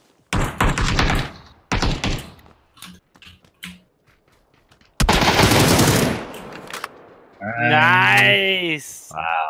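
QBU sniper rifle fire in PUBG rings out as a few loud, sharp reports separated by quiet gaps, followed by a player's voice at the end.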